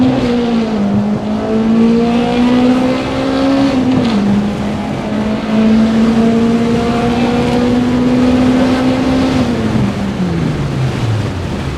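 A loud, tuned Toyota RunX RSi engine (2ZZ-GE, VVT, velocity stacks) pulls hard, its droning note climbing through gear changes and dropping between shifts, sustained and close.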